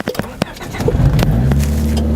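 A 1991 Honda Accord with a manual gearbox starting up, a short cranking clatter that quickly settles into a steady low idle, close and loud.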